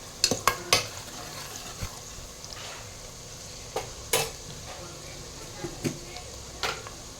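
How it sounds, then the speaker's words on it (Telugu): Onions and turmeric frying in a pan for a chicken gravy curry, with a soft steady sizzle under sharp clinks and scrapes of a spoon stirring against the pan at irregular intervals. "అందులో పసుపు, ఆనియన్స్ కొంచెం ఇంకా ఫ్రై అవ్వాలి."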